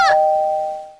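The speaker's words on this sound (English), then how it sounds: "It won't stop ringing the doorbell!" A single electronic doorbell chime from the video game Minecraft rings out clearly, a bright tone that starts sharply and fades steadily over about a second, with no talking.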